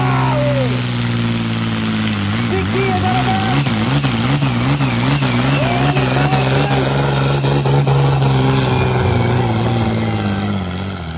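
A big turbocharged pulling tractor at a tractor pull, its engine roaring loud and close in a long sustained run, the pitch wavering up and down as it revs, with no talk over it.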